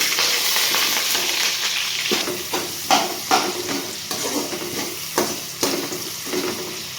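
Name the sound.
sliced onions and whole spices frying and stirred in pan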